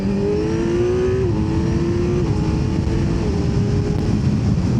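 A 2025 Kawasaki Z900 motorcycle accelerating hard on a test ride in mild weather, its engine note climbing steadily through several gear changes, loud and close with a constant whine and rumble and no talking.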